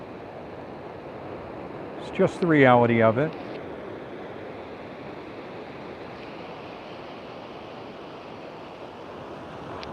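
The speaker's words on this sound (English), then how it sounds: "Because of the waves moving up and down." Ocean waves rolling around a paddleboarder at sea, a steady broadband wash of surf and wind throughout, with a brief spoken remark early on.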